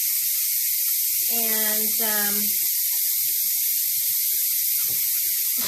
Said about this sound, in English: Let all that pressure release. It has to release before the top will come off.